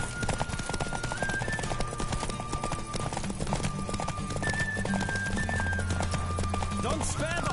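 Rapid, steady hoofbeats of a galloping horse in Final Fantasy XV run throughout, with music playing underneath and a brief whinny near the end.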